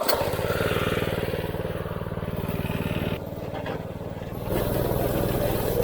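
A go-kart engine runs at full throttle on a backroad, a loud, steady buzzing drone close to the rider that dips briefly midway before surging back to full power.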